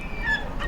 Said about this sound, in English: It's just all on these bloody seagulls.